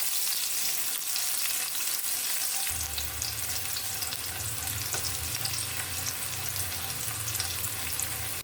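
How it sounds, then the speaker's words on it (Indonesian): Sliced shallots and garlic sauté in hot oil in a wok, giving a steady loud sizzle and crackle with stirring scrapes throughout, a deeper frying rumble joining partway, no talking. "Tumis terlebih dahulu irisan bawang merah dan irisan bawang putih."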